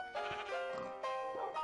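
Sheep bleating in the video game Extreme Heights, a sustained wavering bleat with a second call near the end, loud and close.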